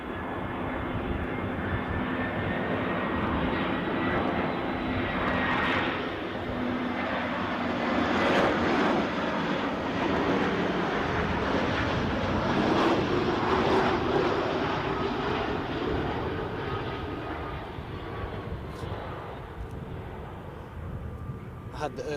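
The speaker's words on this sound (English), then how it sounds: "I had the urge to say easy now as the easyJet came into land" An easyJet airliner inbound from Prague comes in to land at Edinburgh airport, its engines a loud, sustained broadband roar that swells and holds steady for the whole stretch, with no talk over it.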